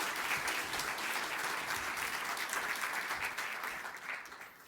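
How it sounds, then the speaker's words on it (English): An audience applauds at the RoboCon 2024 opening, a dense, loud burst of clapping that carries on steadily and then begins to fade toward the end. "So big applause to Mateusz."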